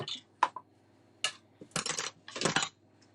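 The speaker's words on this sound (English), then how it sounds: "Let's get some foil on here." Aluminium foil is handled and laid onto a metal tray in a kitchen while preparing crumbed chicken burgers, giving a few faint, scattered crinkles and light metallic clinks in an otherwise quiet room.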